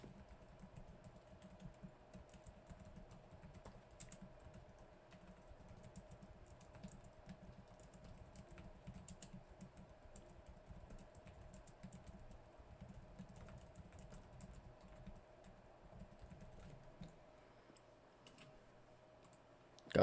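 Typing on a computer keyboard while writing a book foreword runs for about twenty seconds, a quiet, steady patter of key taps that thins out and stops near the end.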